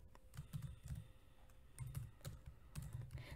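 Quiet typing on a computer keyboard while entering text in a logo design tool, soft rapid key clicks in short irregular bursts, faint and close.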